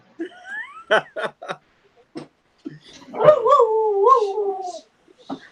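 A dog gives a few sharp yips, then lets out a long, wavering howl that rises and falls before a final short yelp.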